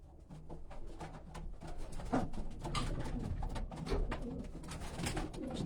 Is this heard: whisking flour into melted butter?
no